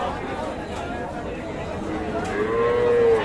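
Bull calves low and moo at a busy rural cattle market in Raniganj, a long clear call rising near the end over constant crowd chatter and background voices.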